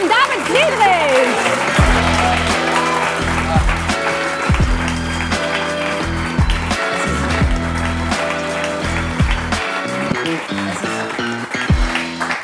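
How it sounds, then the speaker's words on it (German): A poetry slam audience in a hot pub applauds with a continuous wash of clapping that runs under loud music and a presenter's voice for several seconds. "einen großen Applaus bitte für die fantastische Leonie Warnke"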